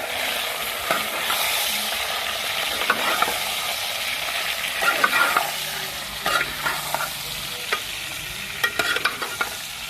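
Chicken pieces fry with browned onions in a pan, a steady crackling sizzle broken by scraping stirs, close and moderately loud with no talking.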